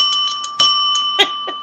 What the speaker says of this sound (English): Bells are going. Bells are going.